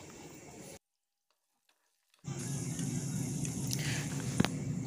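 Sizzling of potatoes in a pan, broken by a brief silent gap, then continuous frying with a spatula scraping and stirring, plus one sharp clink.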